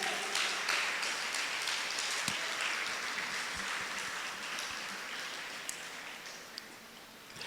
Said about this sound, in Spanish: Vamos a darle un aplauso a Dios mientras